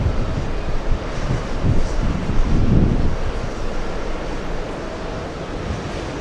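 Strong gusty wind roars and buffets outdoors at JFK airport, a dense, rumbling rush that surges loudest around the middle and stays steady throughout, with no talking.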